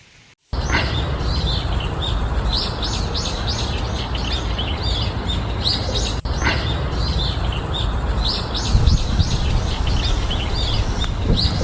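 Parrots trapped in a net chirp and squawk continuously, a dense, loud chorus of rapid overlapping calls running without pause throughout.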